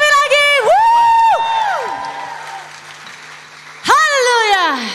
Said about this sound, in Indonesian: Tepuk tangan bagi Tuhan Yesus sekali lagi.